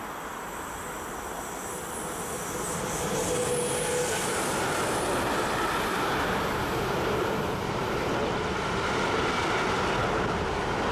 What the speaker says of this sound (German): Hier fahren RBs der Baureihe 427 von Cantus Reil.